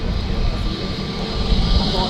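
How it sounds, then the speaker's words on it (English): A British Airways jet takes off from runway 23R at Manchester Airport on a short shuttle hop to Heathrow, its engines giving a loud, steady roar that holds for the whole stretch. "Nice short takeoff."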